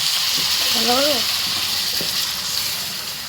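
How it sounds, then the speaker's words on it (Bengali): Water is poured into hot oil in a kadai, giving a steady loud sizzle and hiss close by that slowly eases off as the pan calms, with a voice speaking briefly over it. "এবারে জল দিলাম"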